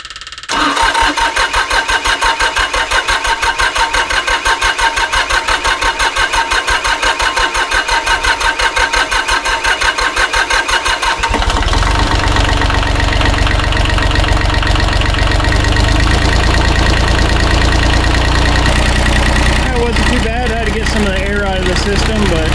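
A neglected excavator's diesel engine cranks with a rapid, even starter chatter for about ten seconds, then catches and settles into a loud, rough idle with a knocking rumble, close to the listener and with no talk over it.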